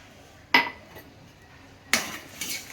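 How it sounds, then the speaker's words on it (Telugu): A lid clatters onto a metal cooking pot of sago upma twice, with a sharp clink early and another metallic knock near the end. It is close and fairly quiet, with no talking. "ఉడికేంత వరకు మూత పెట్టేద్దాం"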